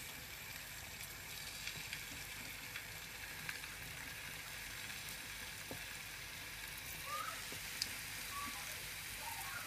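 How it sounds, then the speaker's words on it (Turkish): Köfte meatballs frying in a pan of hot oil, a steady bright sizzle and crackle with occasional small pops, continuous and fairly faint, with no talk. "Bakın tavamızın içerisine köftelerimizi alıyoruz."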